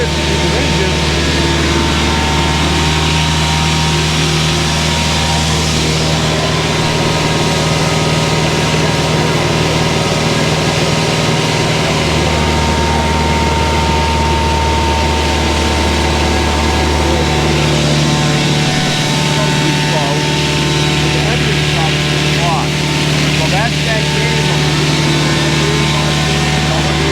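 A Finn MB50 bark blower engine runs steadily and loudly throughout, with a constant low drone and occasional shifts as heavier material passes through.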